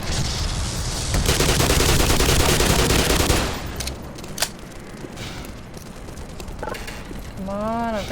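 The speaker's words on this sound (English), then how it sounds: "Stop shooting at me" Sustained automatic gunfire from the Black Mesa video game, loud and continuous for about three seconds and then falling away into scattered shots and mechanical clatter, with a brief voice near the end.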